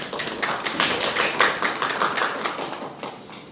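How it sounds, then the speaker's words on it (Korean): Audience applause at an evening gender-equality policy forum in a town hall conference room in Cheonan, South Korea, a dense steady patter of many hands clapping that fades slightly toward the end, with no talk. "다시 한번 큰 박수 부탁드리겠습니다"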